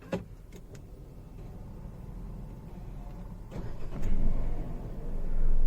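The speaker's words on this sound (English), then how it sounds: "let me just start the engine to check the NVH" A Renault Triber AMT car engine cranks and catches, then settles into a low idle that swells louder toward the end, with a few clicks early on.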